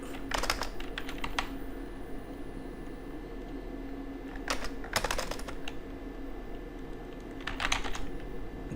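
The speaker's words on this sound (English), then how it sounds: "type Microsoft" Keystrokes on a computer keyboard come in three quick bursts of typing separated by pauses, close and fairly quiet over a steady low hum and faint background noise.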